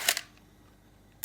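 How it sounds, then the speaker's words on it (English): A Pentax 645N medium format camera fires its shutter: a sharp mechanical clack, a short pause, then a second click as the mechanism resets, close and alone. "the shutter is really noisy"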